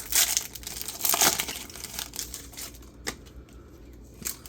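A Prizm Basketball Blaster card pack is torn open up close, with bursts of crinkly foil ripping and crumpling that fade into softer rustles and light handling clicks.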